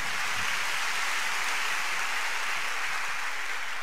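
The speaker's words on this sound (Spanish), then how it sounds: "Denle un buen aplauso al Señor." A church congregation gives a steady, dense round of applause, a continuous hissing wash of many hands clapping at an even level throughout, with no voices on top.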